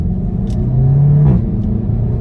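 A Seat Leon Cupra 300 DSG, a 300 horsepower front-wheel-drive car, pulls away hard in first gear, its loud, close engine rumble rising into a strong revving tone before easing off.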